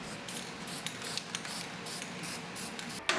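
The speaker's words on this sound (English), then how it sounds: "I put a little paint on these edges to keep it from rusting behind the notch" Spray paint hisses steadily onto the edges of a steel C-notch on a 1973-87 C10 frame, close and fairly faint, with a few small clicks and a sharper tap at the end.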